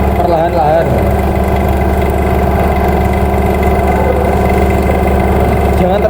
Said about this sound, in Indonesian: Lalu kita matikan mesin vakumnya.